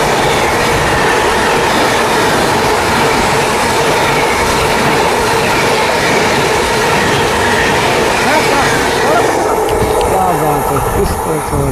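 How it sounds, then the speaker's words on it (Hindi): Bihar Tejas Rajdhani passenger train overtaking alongside another moving train in India, a loud continuous roar of wheels and rattling carriages close by, rumbling steadily throughout. "बिहार की अपनी तेजस राजधानी ओवरटेक कर रही है हमारी ट्रेन को"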